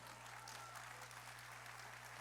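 Steady, even applause from an audience at a church conference, a dense wash of clapping with a constant low hum beneath it throughout.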